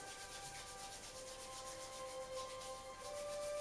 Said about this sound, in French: On frotte bien les mains pour qu'elles soient chaudes, c'est important.